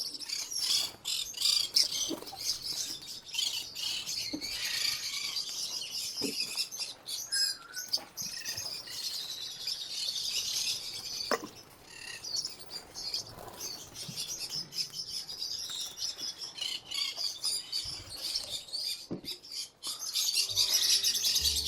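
Green-rumped parrots in an outdoor aviary give bright, scattered chirps and tweets with frequent wing flaps and rustling, moderately close and continuous, with no speech.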